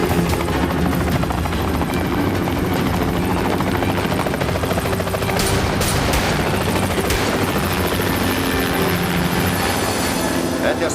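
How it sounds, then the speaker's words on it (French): A helicopter drones loudly and continuously, rotor chop steady throughout, with some voices faintly beneath, in a TV drama scene. "Un hélicoptère partant vers le nord-ouest depuis le secteur de Mayfield."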